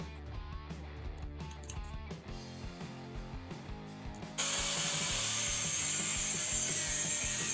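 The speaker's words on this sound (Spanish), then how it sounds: "posteriormente los cortaremos con un esmeril y disco de corte para metal" An angle grinder with a metal cut-off disc bites into metal profiles, a loud sustained bright whine that starts abruptly after a few seconds of clattering, handling and scraping.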